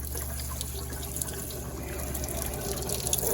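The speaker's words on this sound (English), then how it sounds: "if you got whole skeins, just take and rinse underneath cold water." Whole steelhead egg skeins are rinsed under cold running tap water, a continuous splashing flow with faint drips and clatter, close and steady throughout, with no talking.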